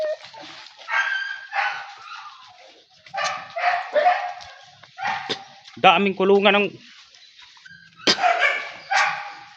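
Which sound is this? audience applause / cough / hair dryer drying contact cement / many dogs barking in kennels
many dogs barking in kennels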